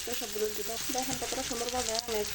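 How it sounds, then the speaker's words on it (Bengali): Apple pieces fry in a little oil, giving a steady, soft sizzle with a faint hum of voice beneath it. "একটু কম তেলে আপেলটা ভেজে নিতে হয়"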